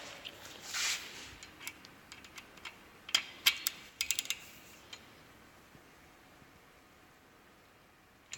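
Gen 2 Coyote engine crankshaft turned by hand to check torque to turn, giving faint mechanical clicks and ratcheting ticks, a brief rustle near the start, then a cluster of sharp ticks in the middle before fading quiet.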